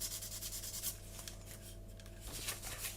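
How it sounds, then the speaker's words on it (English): Sandpaper gently rubbing down a plastic part of an Airfix Vickers Wellington Mk1 model kit, a soft continuous scratchy rasp with rhythmic strokes, close and fairly quiet throughout. "Gently rub it down"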